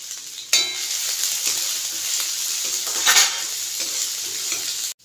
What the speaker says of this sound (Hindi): अब इसको थोड़ा सा फ्राई करूंगी।